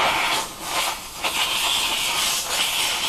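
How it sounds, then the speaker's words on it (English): An upholstery steamer hisses against vinyl on a bass boat seat, loud bursts of steam with brief dips and restarts, no talking over it. "But we have enough tension, the steam should take them out."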